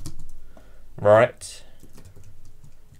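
Typing on a Mac computer keyboard in Terminal, a run of soft, quick, close key clicks under a brief spoken word.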